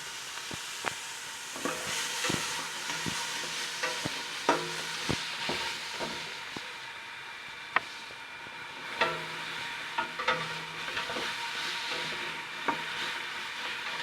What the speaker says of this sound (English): You just want to cook out the onions and Scotch bonnet, garlic and everything.